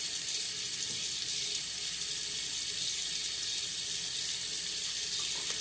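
A water tap runs steadily into a sink for rinsing the face after a shave, a continuous close hiss and splash with no breaks and no voices.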